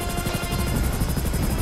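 Helicopter in the video game GTA 5, a loud steady rotor thump with a rapid pulsing chop over engine whine, close and continuous with no talk.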